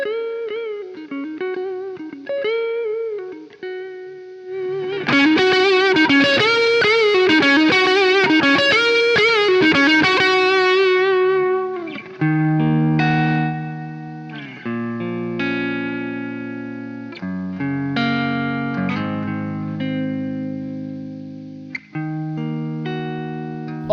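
A cheap beginner rock-metal electric guitar plays through a Tonex amp modeler, first clean arpeggiated notes, then a burst of heavily distorted strummed chords, followed by sustained single-note melodic lines with reverb.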